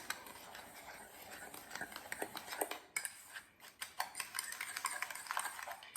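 A utensil stirs and clinks against a bowl while paprika, salt, garlic salt and pepper are mixed into a rib seasoning, giving faint, irregular scraping and tapping up close.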